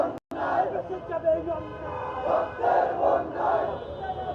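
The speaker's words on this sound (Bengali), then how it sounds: "এই মুহূর্তে বাংলা মোটর থেকে একটি বিক্ষোভ মিছিল নিয়ে স্বরাষ্ট্র উপদেষ্টার বাসভবন অভিমুখে যাত্রা শুরু করেছে ছাত্র জনতা" A student protest procession in Dhaka moves through the streets, a large crowd chanting and shouting in rising waves, dense and continuous throughout, with voices overlapping in a loud outdoor rally.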